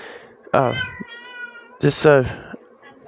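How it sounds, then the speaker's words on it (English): A female cat in heat gives two loud, drawn-out yowling meows close by, the second rising higher and longer, with a quiet room behind. "my female cat is in heat and stuff"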